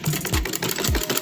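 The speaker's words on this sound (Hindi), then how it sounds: "इस तरीके से सिलाई लगाते लगाते हम आएंगे।" A sewing machine stitches a sleeve onto a kameez, a brief close mechanical whirring run with rapid rhythmic needle pulses and a couple of low thumps.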